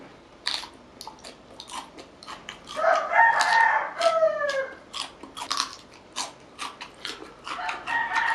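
A rooster crows clearly at mid-distance, one drawn-out call over a few seconds, amid clattering and eating sounds at an outdoor spot where spicy papaya salad is being served.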